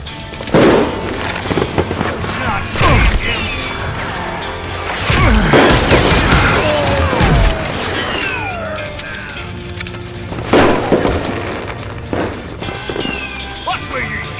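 Gunfire in Call of Juarez Gunslinger, a Wild West shootout against Gray Wolf Apaches, cracks out in loud, sharp bursts with smashing impacts and clattering, scattered through the action while voices shout over it.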